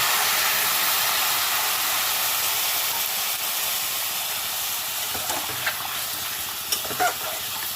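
Water poured into a hot curry pan bursts into a loud, steady steam hiss that slowly settles, with a few faint clinks near the end, and no one speaking.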